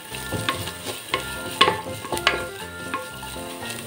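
Chopped onion, green chili, ginger and garlic sautéing in a pan for carrot chicken pulao, a soft continuous sizzle broken by irregular scrapes and clinks of a spoon against the pan, close up.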